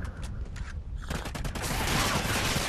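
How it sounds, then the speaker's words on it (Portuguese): Call of Duty Ghosts gunfire in rapid bursts, sparse shots at first, then dense continuous firing, loud and close throughout. "E o Relax a largar a bala"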